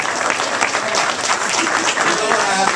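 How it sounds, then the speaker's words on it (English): Audience applause for a performer at a show of old Jewish comedians, a steady dense wash of clapping from a sizeable crowd, loud and sustained throughout with no pause. "Once again, a nice round of applause for a fellow performer."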